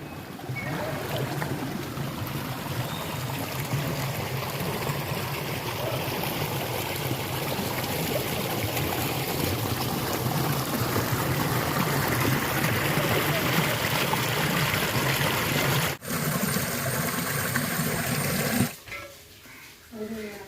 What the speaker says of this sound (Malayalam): എൻ്റെ വീടിൻ്റെ അരികിൽ കൂടെ ഒഴുകുന്ന ചെറിയ അരുവിയാണ്